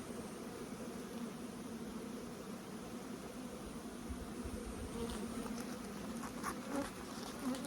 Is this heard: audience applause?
no